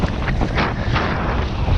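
Strong wind roars steadily across the microphone out on a bay during kayak fishing in a northerly, a dense buffeting rumble with no talk.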